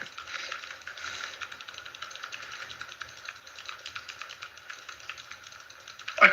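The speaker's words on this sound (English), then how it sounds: "I can literally hear your keyboard clicking in the background" Steady rapid clicking of a computer keyboard being typed on continuously, heard in the background at moderate level with a louder knock at the end.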